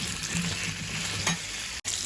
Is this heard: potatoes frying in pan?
yes